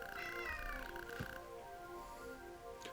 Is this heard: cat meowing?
yes